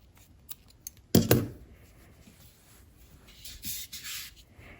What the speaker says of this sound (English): Trim those yarn ends.